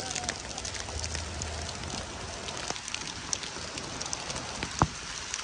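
Heavy rain beside Brunnensee lake, a steady dense patter with a few sharper drops on nearby surfaces, and quiet voices now and then in the background.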